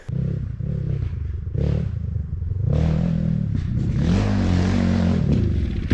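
Barton NXT 300 dirt bike engine running on a motocross track, a steady loud buzzing drone with rising and falling revs and some clatter, hesitating slightly off the bottom of the throttle.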